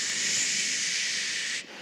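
Wind blowing as a steady, loud breathy hiss that holds evenly for nearly two seconds, then drops away abruptly at the end; no voices.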